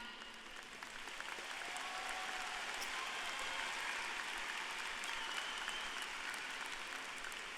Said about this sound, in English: please join me and give me a round of applause to my family